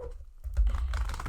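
Exceptionally large tarot cards being shuffled by hand, heard as a quick burst of close, crisp papery riffling and slapping clicks lasting about a second, with no voice.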